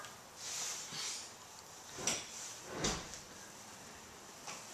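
A large storage drawer on a heavy-duty TriVan truck body slides and thumps, with a few soft rolling scrapes and muffled knocks, fairly faint against a hissy background.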